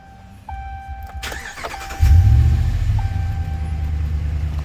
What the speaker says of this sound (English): when you start your truck